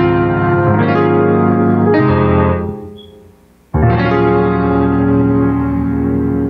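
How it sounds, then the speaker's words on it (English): A Korg Nautilus keyboard with reverb added plays sustained chords that ring out and decay in a wash, briefly fade nearly to silence, then return loud and full. "So we already have the reverb out, so let's go ahead and add some."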